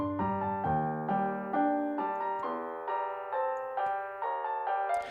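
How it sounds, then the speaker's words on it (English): Silent Hill piano melody run through the EQ of the free Demonic patcher plugin in FL Studio, giving a thin, mid-focused old-radio tone; sustained notes and chords in a slow phrase, alone and fairly loud. "it kind of does that old radio kind of frequency change"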